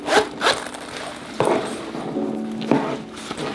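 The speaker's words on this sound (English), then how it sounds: "And also on the side, zipper." Zipper on the side pocket of an Adidas Essentials crossbody bag being pulled open and shut in several quick, close rasping strokes, loud against a quiet room.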